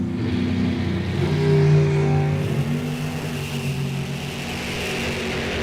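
An '85-era Corvette Roadster Super Gas drag car on the throttle stop at the line, its loud, steady engine drone swelling and holding near before easing slightly, with no talk.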